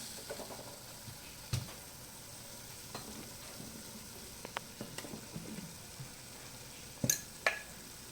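Beetroot stirred in a pan after a pinch of turmeric is added, giving soft scraping and clinks over a faint sizzle, with a couple of sharper knocks near the end.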